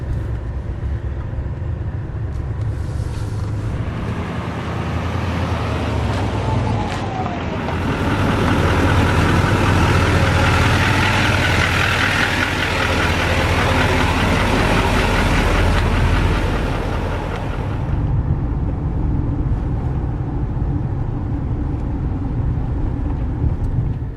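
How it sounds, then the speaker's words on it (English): A 2021 GMC Sierra HD 2500 Denali with a Duramax diesel engine drives along, its steady low rumble and road noise swelling louder through the middle of the run before easing back, with no talking. "the noise of the engine, definitely a diesel"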